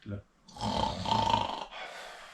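A voice mimics very loud snoring, a short grunt followed by a long, deep, rasping snore and a softer trailing breath.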